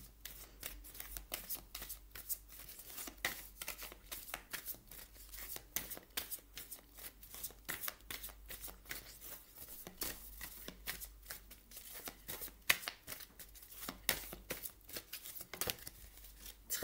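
Tarot cards are shuffled and handled at close range, a faint, continuous run of quick papery riffles and flicks with soft snaps scattered throughout.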